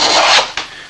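A very sharp hand plane, held upside down in a vise, shaves the joining edge of a bent violin plate. It makes one long, close rasping stroke, then the start of a second, briefer stroke.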